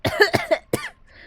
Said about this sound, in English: That cough hurt a lot deeper than I thought it would